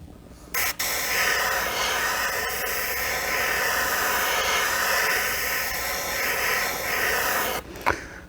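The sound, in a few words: airbrush spraying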